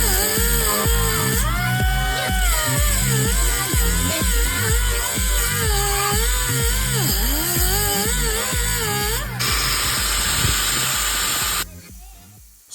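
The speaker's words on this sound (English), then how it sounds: "I like to start with the grinder first. This way I can create that groove" An angle grinder cuts a groove into a metal axle as it is turned, a loud continuous whine with wavering pitch and rhythmic grinding pulses, tapering off at the end.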